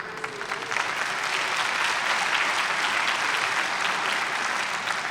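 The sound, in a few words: applause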